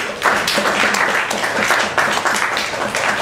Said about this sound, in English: Please give a big applause to Sendil.